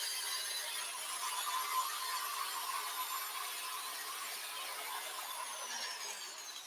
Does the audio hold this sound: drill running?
yes